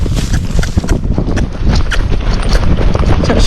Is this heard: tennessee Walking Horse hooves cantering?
yes